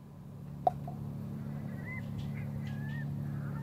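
A bird in the point-and-click adventure game The Journey Down honks a few times, short nasal calls over a steady low ambient hum, with a single sharp click just before them.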